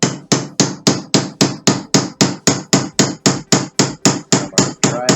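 A hammer drives a pin from a CZ75B pistol with an 1/8 inch pin punch, in a fast, even series of about twenty sharp, loud taps, each with a short decaying ring, very close and with no talk.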